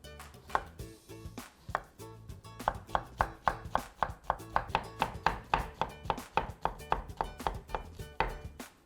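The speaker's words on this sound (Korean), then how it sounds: "애호박 채는 두꺼우면 애호박이 겉돌기 때문에 두껍지 않게 썰어 주시면 좋을 것 같아요" A knife chops zucchini into thin julienne strips on a cutting board, a steady run of about two dozen crisp, evenly spaced knocks, close and clear, with no talking.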